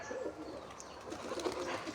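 Released pigeons cooing nearby, soft repeated low coos in a quiet outdoor setting, faint and close with no talking.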